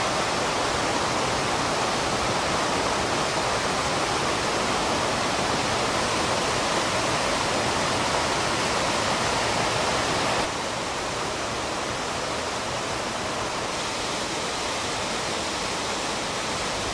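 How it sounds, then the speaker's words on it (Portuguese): Steady broadband rush of streams and waterfalls beside a road near the source of the Tietê River, continuous and fairly close, with no voices. "fique de olho nos ribeirões e cachoeiras à beira da estrada"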